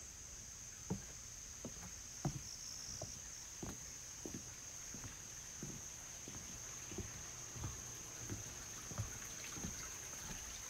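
A creek flows beside a cabin's outdoor jacuzzi, heard as a soft, steady trickle with scattered light splashes and ticks, quiet and continuous throughout.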